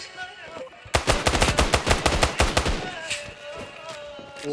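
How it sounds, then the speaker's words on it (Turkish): Rapid automatic gunfire in an amateur clan-match video game, with a dense burst of close, sharp shots for about two seconds, then a quieter tail with faint voices. "Bunu yürüyerek sıkıyorlar."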